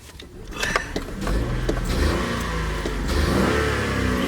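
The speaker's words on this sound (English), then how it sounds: "Let's fire up the 3-cylinder." A Honda Insight ZE1 hybrid's three-cylinder engine starts, then revs and holds a steady, fairly loud mid-pitched drone close by, with no talking.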